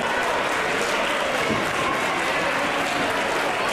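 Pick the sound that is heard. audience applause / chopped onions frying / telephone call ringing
audience applause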